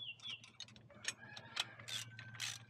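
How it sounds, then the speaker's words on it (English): A ratchet tightens 16 mm nuts and bolts on stabilizer bars fitted to a Kubota L2501 tractor, with quick, faint, close-up clicking bursts and small metallic clinks in short irregular strokes. "We finish by tightening down the 16 millimeter nuts and bolts."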